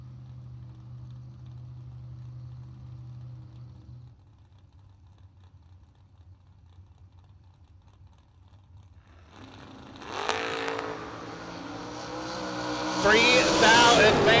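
Drag race cars launching side by side, a twin-carb tunnel ram Fairmont and a 1966 Chevelle: a low engine rumble at first, then engines rev up and roar loudly toward the end, with crowd noise and announcer talk under it.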